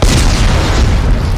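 A loud, dense, rumbling blast from an explosion in the video game Dead Space 3, heavy and continuous through its brief length with no pause and no voice.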